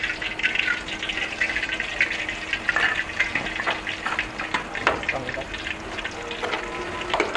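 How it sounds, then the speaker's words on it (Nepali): Kunafa noodles frying in hot oil, a steady crackling sizzle with scattered pops and stirring clicks throughout, no speech over it. "अब म चाहिँ फ्राई गर्नु जान्छु है।"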